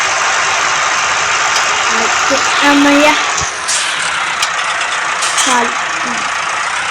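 A tractor engine idles in a farming video game, a low, steady hum running beneath a voice that talks over most of it.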